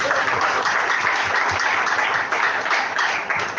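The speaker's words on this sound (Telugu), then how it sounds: "ఎంతమంది చప్పట్లు కొడతారు?" A congregation claps and applauds together, a dense, steady wash of hand claps that stays loud and even throughout, with no clear voices on top.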